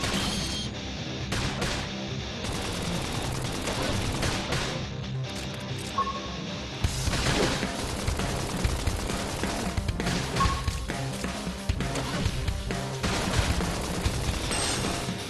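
Gunfire and crashing impacts in a Xenoblade Chronicles X battle pop in dense, uneven volleys throughout, loud and near, with occasional combat voices.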